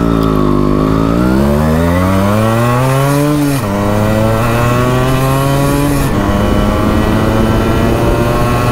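Yamaha RX100 motorcycle engine running loud and close, revving up in steady harmonic sweeps that climb, drop and climb again, ending in a rough steady idle with no talking.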